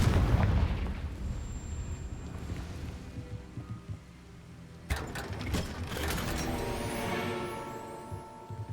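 Confringo fire spell blasting in a Harry Potter video game, with a loud burst near five seconds that gives way to crackling, rumbling debris over a steady game backdrop.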